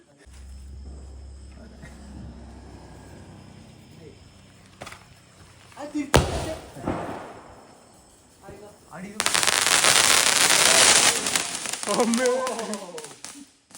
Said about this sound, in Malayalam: പടക്കത്തിന്റെ സൗണ്ട് ഭയങ്കര ഒരു കൂടുതലാണ്